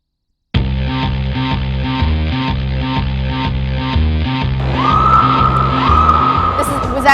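Car tires screech on an indoor race track, a sustained squeal that starts partway through over loud, rhythmic pulsing music that plays throughout.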